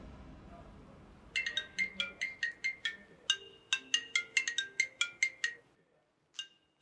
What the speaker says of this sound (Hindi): चांदनी का फोन